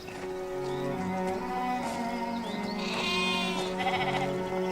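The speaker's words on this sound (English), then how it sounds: "the 3 children, Lucia, Francisco, and Jacinta, were out tending their sheep." Sheep bleating, several overlapping calls in steady succession, loud and close, with no talk over them.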